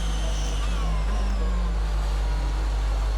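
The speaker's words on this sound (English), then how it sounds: "Isn't that a lovely safety car? I love the sound of the engine, the sound the engine makes" Safety car engine in the F1 22 racing game, a steady low drone holding under a brief rising rev, with no talking.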